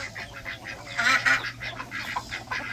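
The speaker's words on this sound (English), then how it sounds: "Let's go see what those ducks do." Ducks call near the nest beside a chicken coop, with repeated honking, quacking bursts that come and go over about three seconds, the loudest pair near the middle, all fairly close and without talk.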